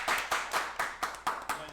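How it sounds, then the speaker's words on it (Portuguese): A podcast studio audience claps for arriving guests in a steady rhythmic beat, about eight sharp, evenly spaced claps in under two seconds, fairly close. "Uma salva de palmas."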